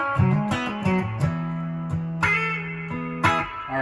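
An electric guitar plays through a Surfybear Compact Deluxe reverb on its mix 1 setting with fuzz, sounding drier than wet. Picked notes and short riffs ring out loud and alone, each with a faint dripping tail.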